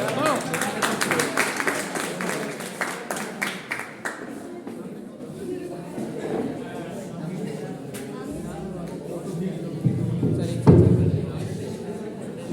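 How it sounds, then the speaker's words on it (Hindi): An audience claps loudly to welcome the next speaker at a school program, a dense burst of clapping over the first few seconds that fades into room noise and murmuring voices. "स्पीच के लिए आप सभी जोरदार तालियों से उनका स्वागत करें"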